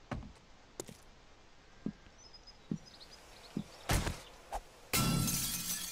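In the 7 Days To Die video game, reinforced glass takes a series of sharp, evenly spaced hits, then a loud shattering burst near the end with a lingering crash of breaking glass.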